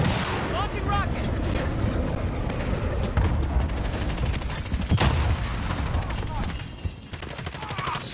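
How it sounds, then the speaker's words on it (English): A rocket launch and explosion in a multiplayer shooter video game, with a continuous dense roar of gunfire and blasts throughout, loud and close, and a sharper burst near the middle. "Launching rocket."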